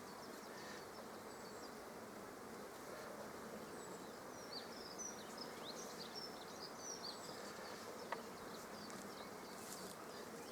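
A steady, dense buzz of many bees fills the air, continuous and close, with a few faint bird chirps in the background.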